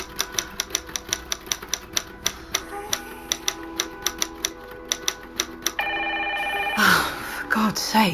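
An old-fashioned telephone bell rings in regular, evenly spaced bursts at night, loud and close, before the ringing stops and other room noises take over.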